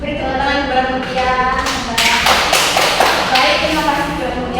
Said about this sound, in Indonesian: Beri tepuk tangan kepada Mutia